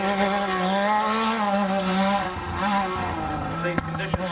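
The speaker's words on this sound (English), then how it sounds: "You hear the little 3-cylinder turbo of Joel Giddy as he fires up the hill towards that." A little three-cylinder turbo UTV engine races flat out up a hill at a Jack's Ridge off-road event, a steady, high-revving drone that dips briefly before two sharp clicks near the end.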